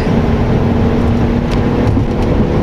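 Steady, loud engine and exhaust drone from a 2015 Mercedes-Benz ML 250 driven on a highway in sport mode, with a low continuous rumble and road and wind noise throughout, no talking.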